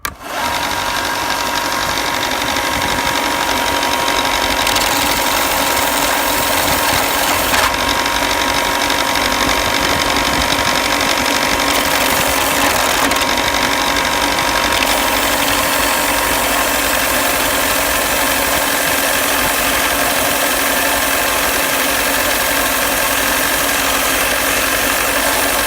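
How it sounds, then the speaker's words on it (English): A belt sander grinds steadily against a piece of wood from an upcycled rat trap, a loud, unbroken motorised whir and rasp that runs close throughout with no talking. "I've got my belt sander out here, and turn this bad boy on and sand this down a little bit"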